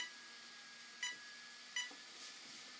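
A Castle system in programming mode gives one short, clean electronic beep, followed after a pause by a second identical beep, over a quiet background hum with no talk.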